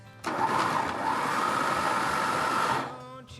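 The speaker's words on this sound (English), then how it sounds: "we're gonna take a block of tempeh and we're just gonna throw it into a food processor and mix it up" A food processor whirs steadily as it mixes a block of tempeh into a coarse meal, a loud continuous motor drone lasting about two and a half seconds before winding down.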